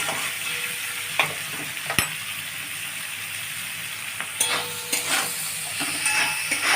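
Chopped onion with salt and green chilli fries in a pan for an egg-and-aubergine dish, a steady close crackling sizzle broken by sharp clinks and scrapes of a spatula stirring, no one speaking.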